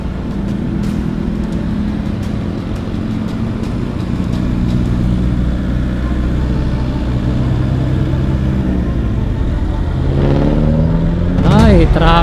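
Steady road traffic rumbles along Quezon Ave, with engine drone and a revving car holding a constant loud level, and a voice speaking briefly near the end.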